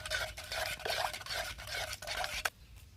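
Spoon stirring onion bhaji chutney with chilli powder and spices in a bowl, a steady scraping swirl close up that stops abruptly near the end with a small clink.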